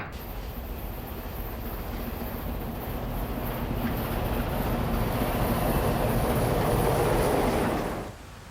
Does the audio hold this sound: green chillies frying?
no